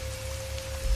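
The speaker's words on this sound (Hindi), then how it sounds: "ऊपर से मूसलाधार बारिश हो रही थी" Heavy torrential rain pours on a dark night as a dense, steady hiss, with a faint constant hum beneath it during one brief second.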